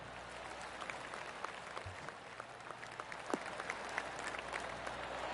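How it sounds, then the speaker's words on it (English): Light, scattered golf-crowd applause in the video game PGA 23, distant, steady and soft throughout, with no one speaking over it. "Oh, golf clap. That's a beauty."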